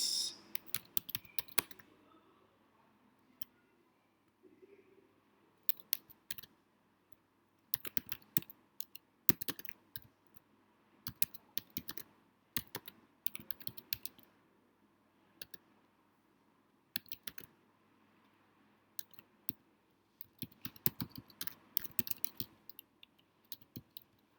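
Computer keyboard typing comes in quick bursts of crisp key clicks separated by short pauses, close and fairly quiet against a near-silent background, with no speech.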